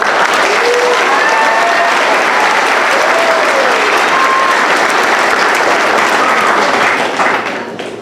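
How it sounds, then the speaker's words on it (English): A crowd at a middle school 8th grade academic awards ceremony applauds a group of students with loud, continuous, dense clapping that stays even throughout and fades slightly at the very end. "Can we give them another round of applause?"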